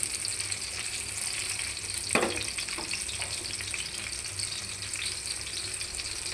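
Ridge gourd pakoras frying in oil in a frying pan give a steady, close sizzle throughout, with a brief louder crackle near the middle and no voices.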